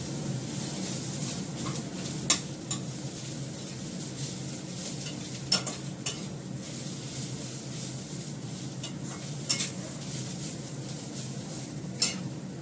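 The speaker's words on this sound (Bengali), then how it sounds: "পেঁয়াজটাকে ভালো করে লাল করে ভেজে নিচ্ছি" Onions frying in oil until browned, a steady close sizzle and hiss running throughout, broken by a few sharp clicks of stirring utensils against the pan.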